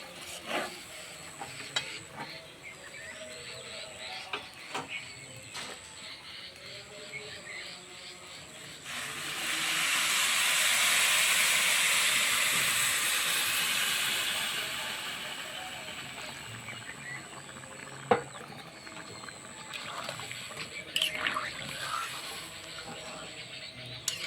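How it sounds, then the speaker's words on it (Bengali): Hot water poured into a pan of frying dalia and moong dal for khichdi sets off a sudden, loud, steady sizzle lasting several seconds, then easing back to quieter pan noise. "এখন আগের থেকে আমি গরম জল করে রেখেছি, এখন ডালিয়ার মধ্যে দিয়ে দেব।"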